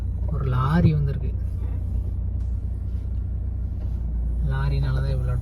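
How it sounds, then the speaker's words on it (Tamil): A lorry's engine idles in slow-moving traffic on a road between Munnar and Coimbatore, a steady low rumble running throughout, with a voice talking at the start and end. "ஒரு லாரி வந்திருக்கு."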